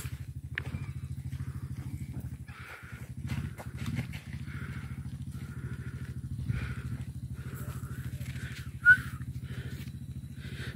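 A motorcycle engine idles with a steady low rumble throughout, with occasional faint clatter and a brief sharp click near the end, as the motorcycle is lifted across a border crossing.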